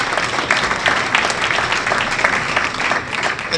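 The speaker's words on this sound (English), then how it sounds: "give them a round of applause for this opportunity" A crowd at a Shaker Heights school district gathering gives a sustained round of applause, dense and loud, with many hands clapping steadily throughout.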